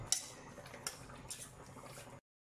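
Seasoning for chicken dak galbi is mixed in a bowl, giving faint, close clinks and scrapes of a spoon against the dish, a few sharp taps over soft stirring, with no speech.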